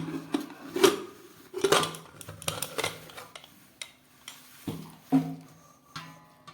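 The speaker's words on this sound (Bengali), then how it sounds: "প্রেশার কুকারের ঢাকনাটা খুলে ফেলি।" A pressure cooker lid is opened after cooking mutton curry, producing a series of light metallic clinks, clacks and rattles spread irregularly across a few seconds, close and fairly quiet.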